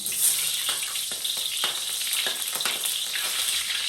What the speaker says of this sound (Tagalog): Ito mainit na yung mantika, magigisa na tayo ng sibuyas.